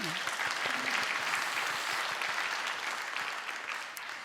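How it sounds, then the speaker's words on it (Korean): A church congregation at a Sunday worship service gives dense, sustained applause of many hands clapping together, steady throughout and easing slightly toward the end. "자 다시 한번 우리 감사의 박수를 한번."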